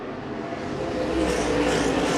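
Race cars lapping a short oval track in a stock car race, producing a loud, continuous engine roar that builds slightly as the field passes.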